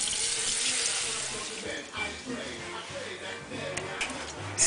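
Running tap water splashes into a sink for several seconds while vegetables are rinsed, a steady gushing stream in a home kitchen, with a voice speaking faintly over it.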